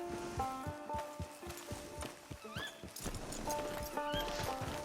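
Horse hooves clip-clop in a steady walking rhythm in Red Dead Redemption 2, close and distinct, with a couple of short neighs or whinnies breaking in partway through.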